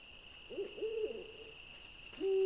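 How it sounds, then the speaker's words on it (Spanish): An owl in a video game hoots twice, clear and close: a short soft hoot, then a longer drawn-out one, followed by a brief quiet before another hoot begins as a steady high electronic tone hums underneath. "Y un búho, ¿eh?"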